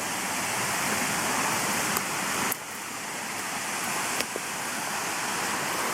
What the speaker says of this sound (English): There's that waterfall. Goes up there, drops down.